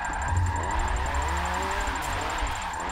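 Hot hatch engine holding a steady drone through a drift lap, close and continuous with shifting pitch as the car is held through a slide, no voices over it.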